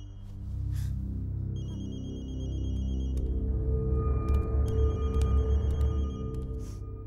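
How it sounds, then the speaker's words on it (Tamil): A mobile phone rings upstairs in a house, its electronic ringtone repeating in bursts of bright, muffled tones above a low, droning background, with no talking. "உன் போன் தான் மேல அடிக்கிறாப்ல இருக்கு"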